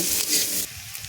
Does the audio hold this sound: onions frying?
yes